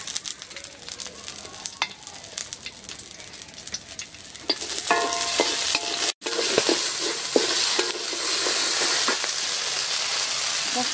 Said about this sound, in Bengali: মরিচ দিয়ে আবার সস পাতা একটু ভাইজে নেই।